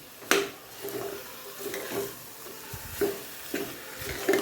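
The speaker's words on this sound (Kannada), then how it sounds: "ಉದುರುದ್ರಾಗಿ ಬರಬೇಕು ಅಂದರೆ ಸ್ವಲ್ಪ ಇಲ್ಲೇ ಹುರ್ಕೋಬೇಕು" Soaked rice is stirred in a hot pan for a vegetable pulao, giving repeated scraping strokes about every half second with a light sizzle beneath, close and moderately loud.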